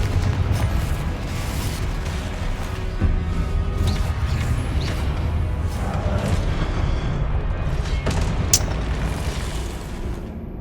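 Confringo blasting spells in the Hogwarts Legacy video game set off repeated booming explosions with crackling debris over a dense, rumbling game soundscape, loud and continuous, with sharp bursts near the middle and end.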